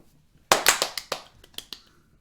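A small group of people tries to clap together in sync in a quiet room, producing an uneven burst of about eight sharp claps over two seconds, close and loud, not quite unified.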